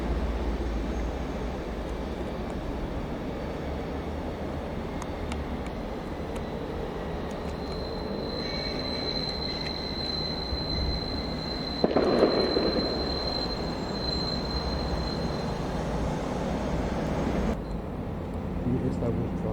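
The historic DSF Koblenz shuttle train runs on rails in Switzerland with a steady, loud rolling rumble, a thin high wheel squeal appearing midway, and a sharp clack partway through, continuing without pause.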